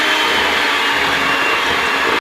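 An electric blender or mixer whirring loudly and steadily, close up, as wet cookie ingredients with vanilla extract are blended, cutting off sharply at the end; no talk.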